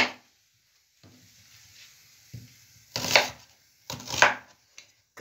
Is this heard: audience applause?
no